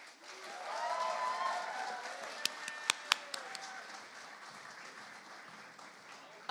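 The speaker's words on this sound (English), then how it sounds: "So let's give them a big round of applause." Audience at a student union elections results night applauding candidates: moderate, fairly distant crowd clapping that swells then fades, with a few sharp nearby claps partway through.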